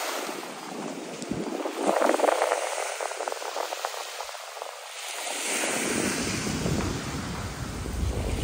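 Sea waves at a beach resort in Nasugbu, Batangas, forming a steady broad wash of surf under heavy wind buffeting on the microphone, with a continuous hiss and no talking.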